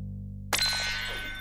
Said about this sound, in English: It's the Doodlebop Red Hot Phone!